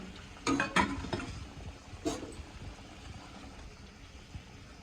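Coconut milk is poured into a simmering fish curry and stirred, with close scraping and sloshing strokes in the pan over a steady bubbling sizzle. No one speaks.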